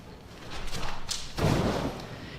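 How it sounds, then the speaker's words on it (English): Backflip landing on the ground a couple feet from a mat, heard as a single dull thud of feet hitting down, close and moderately loud after a brief whooshing movement, with no talk. "Notice how he landed a couple feet from the mat"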